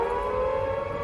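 A civil defence air raid siren wails steadily during a wartime raid over London, a loud sustained tone holding without a break.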